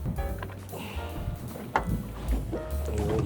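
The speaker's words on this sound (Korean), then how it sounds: "지금 가이드 모터를 켜가지고 하고 있습니다" A small fishing boat at sea, out for octopus and rockfish, runs on its electric guide motor with a low, steady hum mixed with wind buffeting and water noise, plus an occasional knock against the hull.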